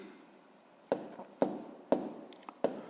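Chalk or pen strokes tapping and scratching on a board while working a sixth-grade maths exercise, four or five distinct close taps with brief scratches between, in a quiet room.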